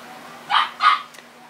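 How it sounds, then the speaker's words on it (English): Puppies barking while they play, two quick barks about a third of a second apart, moderately close and clear over a quiet room background. "Sorry if you guys can hear my puppies barking, but they're up and they're playing."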